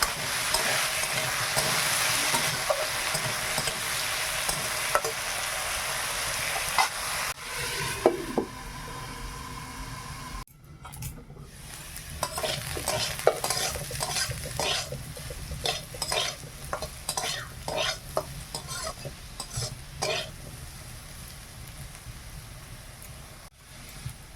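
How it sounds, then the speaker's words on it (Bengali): Potatoes coated in salt and turmeric fry in a pan in a village kitchen, giving a steady sizzle that is later broken by repeated stirring scrapes and clinks. No one speaks. "এবার আমি আলুটা ভেজে নেবো লবণ হলুদ মাখিয়ে রেখেছি"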